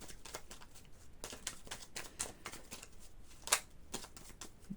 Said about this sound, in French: Je vais quand même en demander une autre, comme je n'avais pas eu trop le temps de brasser le jeu.